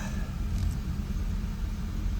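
A 1983 VW Quantum GL5 wagon being driven, its engine giving a steady low rumble and droning cabin noise throughout, with no talking.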